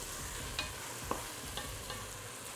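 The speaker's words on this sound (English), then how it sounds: "But we have to move this masala regularly because the heat is on the high flame." Masala fries on a high flame in a kadhai while being stirred, giving a continuous sizzle broken by a few scraping clinks of the spoon against the pan, close by.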